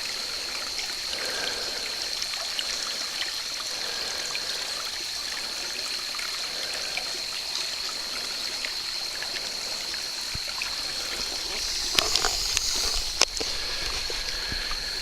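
Creek water flows steadily at Twin Creek, a continuous broadband rush and trickle with no pause, joined by a couple of sharp clicks near the end.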